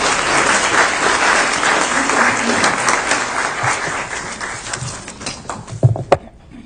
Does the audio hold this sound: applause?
yes